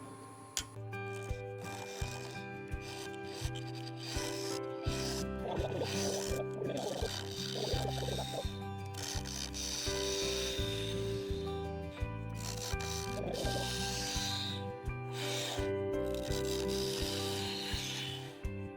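A wood lathe spinning at about 1000 RPM turns a small natural-edge burl bowl. The tool rubs and scrapes continuously against the wood over a steady motor hum, and faint harmonic tones run throughout.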